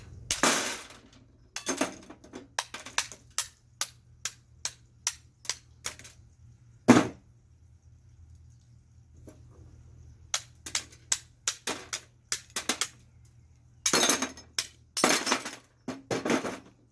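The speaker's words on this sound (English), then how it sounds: "take my brick hammer, and try and break this glass without cutting myself" Glass struck and broken close by with a brick hammer, sharp cracking impacts and clinks in irregular clusters with quiet stretches between.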